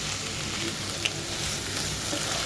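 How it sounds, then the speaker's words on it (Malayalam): Thoran frying in a pan while it is stirred, giving a continuous hissing sizzle with a faint scrape or two, heard up close with no voices. "അപ്പോൾ ഇത് നമ്മൾ കുറച്ച് നേരം ഇളക്കിക്കൊണ്ടിരിക്കണം."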